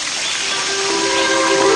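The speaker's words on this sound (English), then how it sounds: "the peaceful sounds of a Hawaiian waterfall" A Hawaiian waterfall pours in a loud, steady, close rushing hiss that swells slightly over its short span.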